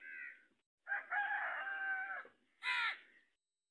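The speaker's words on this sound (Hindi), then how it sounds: "ये मुर्गा सुबह सुबह एक मुर्गे को दूर से जवाब दे रहा है, अजान दे रहा है।" Rooster crowing in the morning, answering another bird: a clipped crow, then a long drawn-out crow and a short final burst, loud and close with brief pauses between, no talking.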